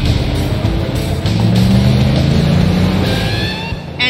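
A 6.2-liter V8 in a 2022 Chevrolet Silverado 1500 ZR2 pickup with stock exhaust roars nearby, its deep rumble rising in pitch as it accelerates, then easing off.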